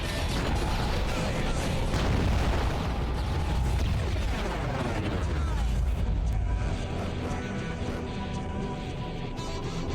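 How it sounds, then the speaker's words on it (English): Gunfire and heavy explosive booms from the underwater combat game AquaNox, a dense, continuous rumbling barrage with mechanical clanking that holds loud for the full stretch and eases slightly toward the end. "Don't like what I hear. Yeah, they're shooting you still."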